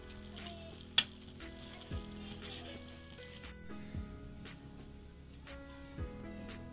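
Gond makhana cooks in a pan with a faint, quiet sizzle, broken by occasional soft scraping taps of a spoon stirring at regular intervals.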